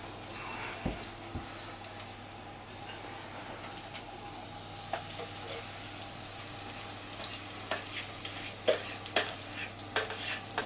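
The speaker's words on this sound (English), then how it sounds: "Okay, so now I'm just going to put the batter here into the hot oil." Yorkshire pudding batter hitting hot oil gives a steady, soft sizzle and crackle throughout, with scattered sharper pops and spits growing toward the end, close by and moderately quiet.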